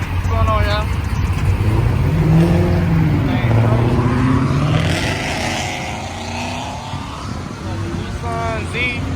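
A muscle car, such as a Mustang, revs its loud exhaust while pulling out of a car meet, the engine note rising and falling over several seconds as people talk and shout close by.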